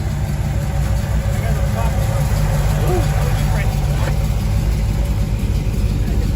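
A 1982 Camaro Z28 with a freshly swapped 5-speed manual idles close by in a loud, steady, even low rumble that holds unchanged throughout.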